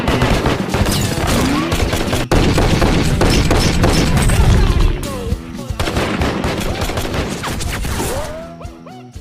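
Dense, rapid gunfire rings out in a backyard shooting-practice scene from a film, loud volleys of shots and booms running almost continuously before thinning toward the end.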